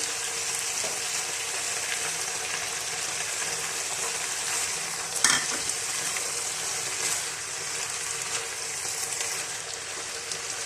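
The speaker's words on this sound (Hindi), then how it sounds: "अब थोड़ी सी देर के लिए मैं इन तमाम फिलिंग्स को अच्छे से पकाऊंगी, तकरीबन 2 से 3 मिनट के लिए" Chicken and vegetable samosa filling cooking in a pan, a soft steady sizzle with a single sharp clink of a utensil midway, faint and without talk.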